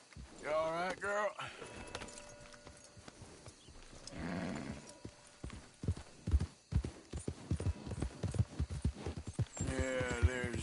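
Horse hooves clip-clop in the video game Red Dead Redemption 2, a steady rhythmic run of close, sharp hoofbeats, with a whinny near the start and end and some clinking tack.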